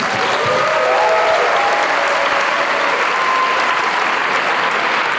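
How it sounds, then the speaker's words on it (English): Audience applause fills the room, loud and unbroken for about five seconds, with a few faint voices calling out over the steady clapping. "Give yourself a round of applause."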